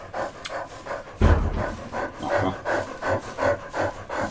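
A dog pants in quick, steady rhythmic breaths with a brief louder huff near the start, close and fairly clear, in a horror video game set at the Inunaki Tunnel.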